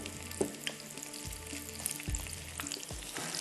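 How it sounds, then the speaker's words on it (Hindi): Drumstick kebabs sizzling as they fry after a dip in egg and flour, a soft steady crackle with occasional low thumps and stirring clatter, no voices. "बस इसको इस तरह से हमने फ्राई करना है अंडे में, उसके अलावा मैदे में"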